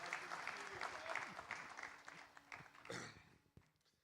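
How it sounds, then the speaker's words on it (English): Audience applause at a global economic policy forum, a dense patter of clapping that holds steady for a few seconds and then thins and fades out. "So we should just give her a special round of applause."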